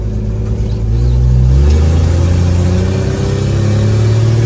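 A 1963 Plymouth Valiant's engine runs loud and close, a steady heavy drone that climbs slightly and holds at a raised idle instead of settling back down.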